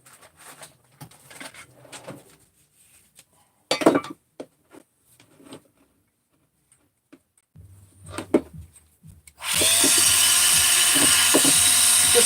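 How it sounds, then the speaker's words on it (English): A Dremel rotary tool fitted with a wire wheel cleans up a metal piece in a workshop, a loud, steady high-pitched whir that starts abruptly after scattered clinks and handling noises and runs continuously to the end. "Just a wire wheel on the Dremel."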